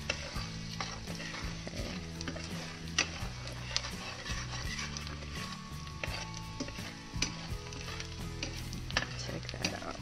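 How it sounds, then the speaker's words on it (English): Garlic cooking in butter over low to medium heat in a pan, a soft steady sizzle with a low background hum and many small ticking pops and clicks throughout. "You don't want your butter to burn, you just want it to be kind of a low, medium temperature. Your garlic starts to cook."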